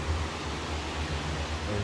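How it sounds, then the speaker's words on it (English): A fan running in a garage gives a steady, fairly faint broadband whoosh with a low hum beneath, continuous and unchanging, with no talk. "Sorry for the fan noise."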